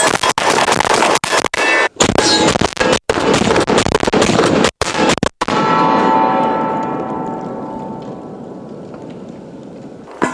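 Eight rounds of rapid fire from a Beretta 1301 semi-automatic shotgun in quick succession, loud and close, each blast sharp and dense, then a long decaying echo as the last shot rings out.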